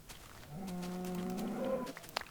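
Cows moo in a video game, a single drawn-out low moo rising and holding steady for over a second, fairly clear over a faint background.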